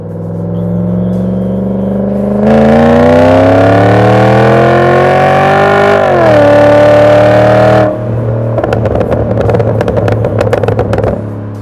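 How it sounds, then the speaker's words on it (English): Volvo XC70 V8 engine under spirited driving, loud and close, revving up through rising gears with a brief lift, then rough burbling as the throttle drops. "we took out of storage my beloved Volvo Xc70 V8. Then went ahead and done some pretty spirited driving"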